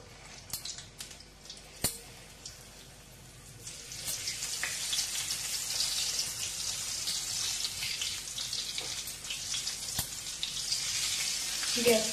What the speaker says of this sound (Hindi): मैंने अचार का तेल यूज किया है, ऑयल गर्म हो चुका है। अब इसमें हम डालेंगे परवल को,